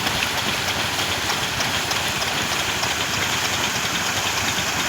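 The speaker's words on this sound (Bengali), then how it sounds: "এইভাবে আপনাকে চেন প্রত্যেক দিন মেশিন চালাতে হবে, চেন টানতে হবে।" A motor runs continuously to drag a chain through a prawn farm pond, giving a steady, rough, rain-like mechanical rumble with no talk.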